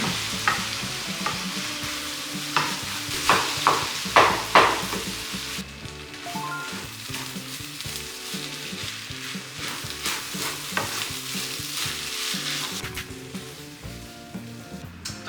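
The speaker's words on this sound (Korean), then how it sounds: "오, 이제 소리가 이제 또 볶음밥스러운 소리가 납니다." Fried rice being stir-fried in a hot pan, with a continuous close sizzle and rhythmic scraping and tossing strokes, loudest early on and then settling into a steady frying hiss.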